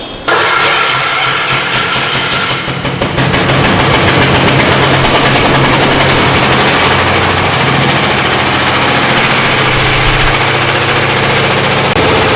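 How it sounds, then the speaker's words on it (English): An air-cooled single-cylinder diesel engine on a test bench cranks briefly, then fires and runs loud and close with a fast, hard, rattling chug that stays steady to the end. "Let us start the engine"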